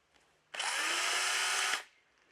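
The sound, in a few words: Stihl E140 electric chainsaw running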